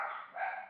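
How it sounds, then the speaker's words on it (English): Pet dogs barking indoors, a single short sustained bark or yelp burst, fairly loud and alone without speech. "Sorry, my dogs are barking."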